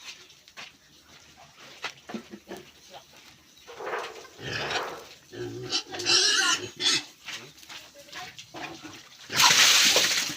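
Pigs grunt and squeal among splashing and shuffling noises, with a loud burst near the end and people talking now and then.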